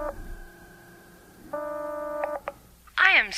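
Push-button telephone dialing tones in a CBC radio horror drama: a steady run of dual tones, then a louder tone sequence with a few short beeps, before a sharp voice cuts in at the end.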